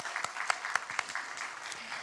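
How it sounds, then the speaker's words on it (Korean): A church congregation claps together in a short, rhythmic burst of applause at a steady beat, heard from a distance and fairly faint. "우리 새해를 허락하신 하나님께 영광의 박수 돌리겠습니다."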